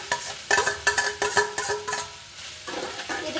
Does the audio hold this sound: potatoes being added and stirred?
yes